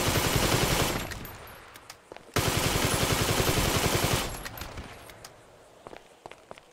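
Rapid bursts of automatic gunfire at an abandoned motel in GTA V Online, loud and close, with a brief pause then another sustained volley before trailing into scattered single shots and footsteps.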